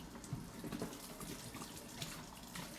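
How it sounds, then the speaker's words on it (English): A kitchen tap runs in a steady, close hiss of water while flour is rinsed off, continuous throughout with faint splashing and no talking. "I'm just gonna rinse this flour off because it's technically not dirty"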